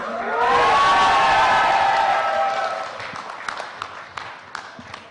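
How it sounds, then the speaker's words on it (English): A live audience at a Honor Play product launch event erupts in loud cheering and whooping, swelling quickly, then fading into scattered clapping and a few claps over the last seconds. "Can we hear out some more cheer and crazy cheer in the house?"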